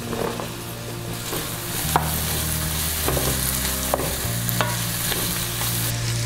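Mixed vegetables, mint and coriander frying in a pan on a stove, a steady close sizzle with rhythmic spoon-stirring scrapes every second or so, and no voices.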